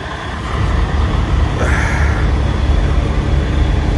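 A Cummins ISX-powered T660 combination truck cruises down the road, its engine making a steady, loud low rumble with continuous road noise and no talking throughout.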